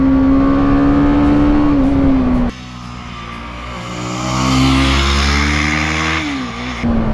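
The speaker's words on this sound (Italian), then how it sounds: "la verve di questo monocilindrico girato di 180 gradi. Guardate che allunga in seconda." The single-cylinder engine of a BMW G310GS motorcycle revs hard and climbs in pitch, drops briefly at a gear change, then pulls up again in second gear, close and loud.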